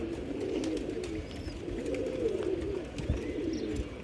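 Pigeons cooing steadily beside their cage, a continuous low murmuring coo that carries through the whole stretch at moderate loudness with no talk.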